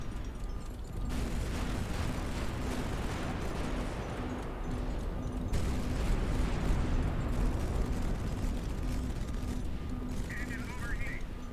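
Booming cannon fire from the naval air battle game High Fleet, a dense continuous rumble of artillery and explosions beneath steady engine drone, with a voice speaking over it.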